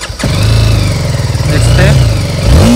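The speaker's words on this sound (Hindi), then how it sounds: "देख सकते मैं इग्निशन में चालू कर दिया मैंने इग्निशन, इसका आवाज़ सुना के दिखाता आप लोगों को" BMW G 310 R motorcycle switched on at the ignition, a short catch at the start and then its engine idling loud and close with slight throttle wobbles, ending in a quick rev.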